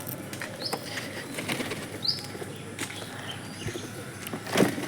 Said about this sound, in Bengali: আবার 3টে পায়রা উপরে উঠে গেল